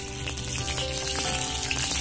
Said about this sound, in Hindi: उसमें ऑयल डाल दूंगी।